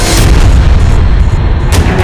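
A loud, deep explosive boom that rumbles on for about two seconds, heavy and close, with no voices.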